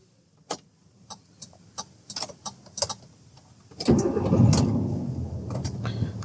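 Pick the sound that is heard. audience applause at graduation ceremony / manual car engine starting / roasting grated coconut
manual car engine starting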